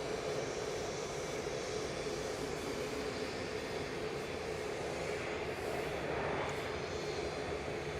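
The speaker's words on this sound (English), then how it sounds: "Aer Lingus just touching down." An Aer Lingus airliner touches down at Manchester Airport, a steady, loud broadband roar of jet engines that holds evenly throughout with no voices.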